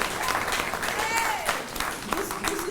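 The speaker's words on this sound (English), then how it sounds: "So everybody give him a round of applause." A small audience at a school graduation claps in a steady patter of applause at moderate volume, with no voices standing out.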